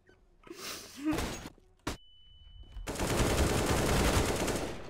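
Gunfire in CS:GO starts with a few scattered sharp shots and breaking sounds, then becomes a loud, sustained burst of rapid fire after a short tone, with a faint gasp early on.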